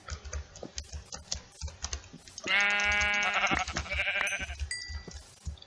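A synthetic Minecraft sheep bleats in a drawn-out, wavering cry over soft clicking and tapping, with a second shorter bleat following.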